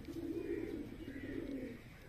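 Pigeons coo nearby in a soft, low, continuous warbling murmur, with a faint higher note drifting over it; there is no talking.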